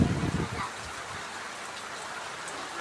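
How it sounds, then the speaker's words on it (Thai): Steady heavy rain with strong wind hissing broadly throughout, with a burst of low rumbling noise at the very start, no voices present. "ลมก็แรงฝนก็แรง"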